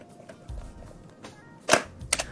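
Two sharp mechanical snaps from a NONS SL42 instant SLR camera, the mirror flipping up and then the shutter firing about half a second later, close and crisp over quiet room tone.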